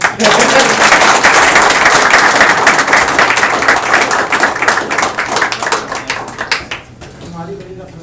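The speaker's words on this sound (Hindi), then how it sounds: "ताली बजाओ अच्छे से" An audience claps after a Hindi poem recital. The loud, dense applause runs for several seconds, then thins into scattered individual claps and fades out. Voices can be heard faintly near the end.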